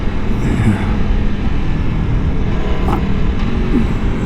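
A 2023 Aprilia Tuono V4 Factory motorcycle with a V4 engine rumbles loudly and steadily while being ridden, a dense low drone mixed with rushing wind noise and no speech.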